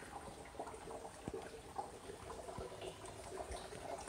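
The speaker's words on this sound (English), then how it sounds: "So water's coming from our downspout and you can actually hear it filling." Rainwater from a downspout trickles and splashes into a blue rain barrel of an eight-barrel catchment system, a faint, steady gurgling with scattered drips and small plops, no talking.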